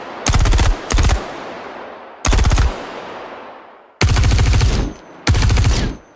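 Star Citizen video game weapons fire under heavy multiband compression: loud, dense bursts of rapid automatic shots in four or five volleys with pauses between, each followed by a booming, crackling tail that fades slowly.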